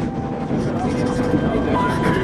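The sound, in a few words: train journey in video game 11-11 Memories Retold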